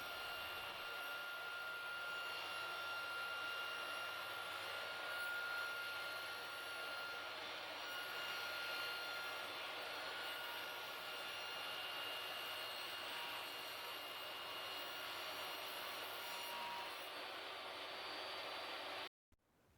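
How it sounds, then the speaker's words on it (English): A table saw runs steadily while cutting down 6mm plywood in a workshop, a loud continuous whine with a broad hiss that holds evenly for about nineteen seconds before stopping abruptly. "Now I've moved over to my table saw and I'm cutting down some 6mm plywood"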